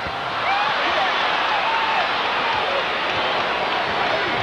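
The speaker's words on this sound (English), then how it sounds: "You can hear the buzz in the crowd" A basketball arena crowd at a 76ers versus Lakers Christmas game keeps up a loud, steady, broad buzz of voices with scattered clapping, under faint commentary.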